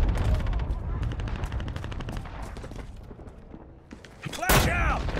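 Gunfire rattles through a Call of Duty Modern Warfare match, with rapid, close automatic shots and scattered distant reports. A sharp heavy blast comes near the end, and game voices speak under the shooting.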